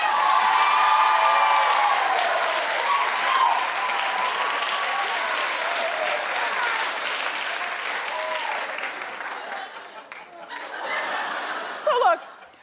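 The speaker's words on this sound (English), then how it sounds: "Clap if you don't care about any of us." A TV talk show studio audience claps loudly and steadily, mixed with chuckles and some cheering. The applause thins toward the end as a voice speaks over it.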